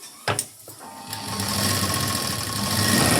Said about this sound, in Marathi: एक दाब शिलाई आपल्याला द्यायची आहे